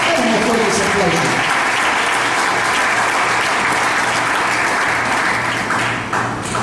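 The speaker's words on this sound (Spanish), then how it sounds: "Vamos a poner ese aplauso" Loud, dense applause from a church congregation during a sermon, continuous and even for several seconds, with a voice briefly audible at the start.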